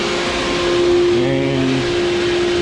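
10 horsepower pool pump running in a water park pump house, a loud, constant mechanical drone with steady hum tones, close and unbroken.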